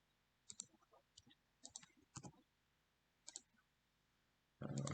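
A computer mouse clicking on a desk, sparse soft clicks in small clusters with quiet gaps, ending in a brief louder burst of noise.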